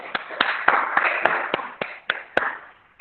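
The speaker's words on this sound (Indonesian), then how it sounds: "kasih tepuk tangan untuk Rian" A few pupils clap for a classmate during an online primary-school lesson, about a dozen sharp, separate claps in a loose irregular rhythm, close to the microphone and fairly loud, with no talking over them.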